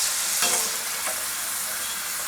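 Potato strips deep-frying in hot oil for French fries, a loud continuous bubbling sizzle with a couple of brief stirring scrapes.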